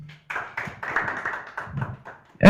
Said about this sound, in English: another round of applause for Gracious Tours and Travel